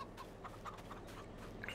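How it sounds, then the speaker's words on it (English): Chickens in a coop on a European countryside farm in Farming Simulator 22 give faint, scattered clucks and soft peeps, quiet and intermittent over a low background hum. "And over here we got chickens."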